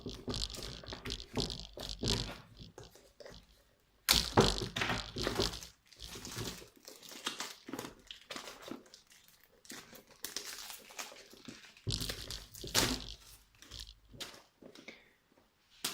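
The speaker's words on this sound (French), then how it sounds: "Un petit trou ici, on va essayer de s'en servir. Hop, on déchire tout ça." Cardboard packaging of a 4x4 MGC toy being torn open by hand, heard as close, loud bursts of ripping and crinkling with quiet pauses between them over about sixteen seconds.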